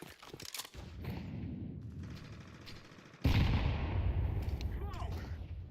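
In a video game firefight, a flashbang and gunfire make a dense, continuous rattle of shots, then a sudden louder burst roughly midway that keeps the barrage loud to the end.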